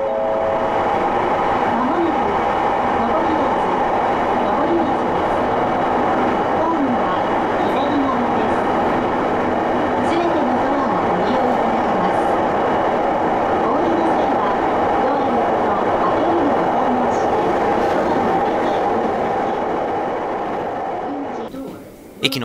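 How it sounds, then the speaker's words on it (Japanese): Inside a JR Hokkaido one-man electric train running on the Muroran Main Line toward a tunnel, a loud, steady rolling rumble with faint rail clatter persists, easing off near the end. "列車はここで初めてトンネルに入ります。"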